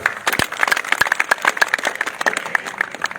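Crowd at a political election rally bursts into dense, crackling applause, many hands clapping in a steady patter at moderate distance with no talk over it.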